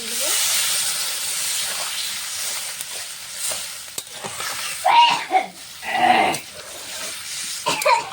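Water poured onto spice paste frying with ridged gourd for a katla fish curry hisses and sizzles in a loud, steady wash of steam, with bursts of bubbling and stirring clatter rising over it.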